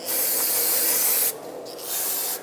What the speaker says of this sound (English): Rinse it down with brake parts cleaner to get all of the dust and debris off of here.